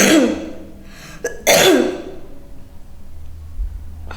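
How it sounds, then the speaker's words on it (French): A girl coughs twice in loud, close bursts, the second a longer hacking fit, with a quieter low rumble and near silence between. "Je voudrais te demander une fois de plus de tousser."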